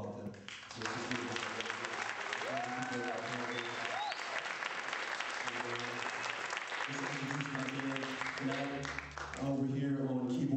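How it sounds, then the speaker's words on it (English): Audience applause at a live music night, loud and sustained for about ten seconds, with crowd voices and cheering mixed in and some musical tones or sustained notes showing through toward the end. "I just want to applaud them."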